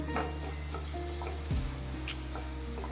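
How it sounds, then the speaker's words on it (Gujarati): Ginger garlic paste being stirred into onions frying in a pan for a sweet-and-sour ivy gourd curry, with a steady close sizzle and a few scraping stir strokes. "હવે તેમાં આદુ લસણની પેસ્ટ ઉમેરીશું બધી જ વસ્તુને સરસ રીતે મિક્સ કરી લેવાની છે"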